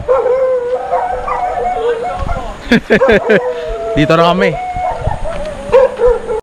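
A dog barks and yips a few times amid lively outdoor chatter, the barks close and sharp among people's voices.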